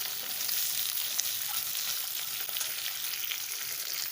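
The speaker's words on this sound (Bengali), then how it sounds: "এর মধ্যে পেঁয়াজ কুচিগুলো দিয়ে দিচ্ছি, মানে ডুমো ডুমো করে কেটে রাখা পেঁয়াজগুলো।" Diced onions and garlic frying in hot oil give a dense, continuous sizzle close up that stays even throughout, with faint stirring scrapes and no voices.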